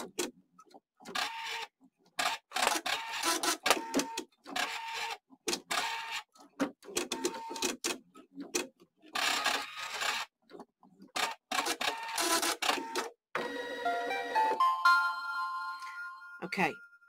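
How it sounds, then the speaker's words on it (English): An embroidery machine in a hoop works through an alignment stitch, giving bursts of rapid mechanical stitching broken by short pauses, followed by a few high electronic beeps near the end. "now it's going to do its next alignment stitch"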